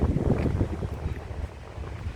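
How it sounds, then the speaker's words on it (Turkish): Steady wind buffets the microphone with low rumbling gusts in an open park, constant and fairly loud, with no voices over it. "rüzgarlı biraz"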